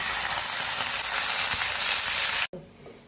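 Cashews and raisins sizzle loudly in hot oil for basanti pulao, a steady dense frying hiss that stops abruptly near the end, leaving a quieter clatter.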